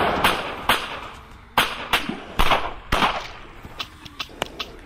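Gunfire in a VR zombie wave shooter, sharp individual shots fired in an uneven rhythm, close and punchy, spaced apart with short gaps and a couple of quicker pairs near the end.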